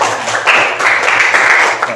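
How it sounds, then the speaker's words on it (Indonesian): Students in a classroom give a group a short burst of applause, a dense, steady crackle of many hands clapping at once and close by. "tepuk tangan untuk kelompok 5"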